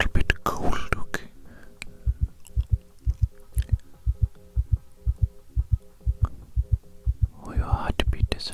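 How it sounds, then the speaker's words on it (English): Heartbeat heard through a stethoscope in a doctor role-play: a fast, steady run of soft low thumps, close and muffled, with breathy whispering and handling noises at the start and end. "Oh, your heartbeat is a little fast."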